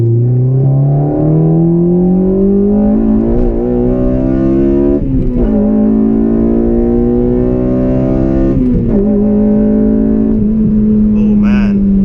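A Honda Civic Si FA5 accelerates hard in second gear, its engine note climbing steadily in pitch across a long pull with brief dips at shifts, heard from inside the car at close range.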